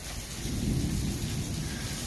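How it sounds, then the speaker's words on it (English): A low, rumbling roll of distant thunder from a storm in Speedway, Indiana sits under steady rain, swelling briefly and then fading. "I hear the thunder."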